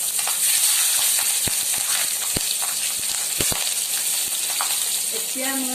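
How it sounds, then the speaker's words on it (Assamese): Cumin seeds and a green chili sizzle in hot oil with a steady, dense crackle throughout, sharp pops breaking through now and then, and a faint bubbling near the end. "তেল গৰম হৈ গ'ল। ইয়াতে মই অকণমান জিৰা দিছোঁ আৰু ইয়াত মই জলকীয়া এটা দি দিছোঁ।"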